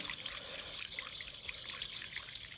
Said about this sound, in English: we're going to whisk that together